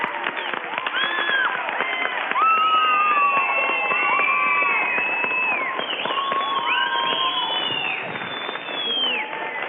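Students in an audience applaud and cheer for astronauts, giving a dense, continuous wash of clapping mixed with high, excited shouting voices that holds steady throughout.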